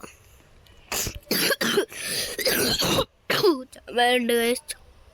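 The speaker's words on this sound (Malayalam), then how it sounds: "ചുമയുണ്ട്." Several harsh, close coughs and throat-clearing bursts come in quick succession, followed by a short spoken phrase.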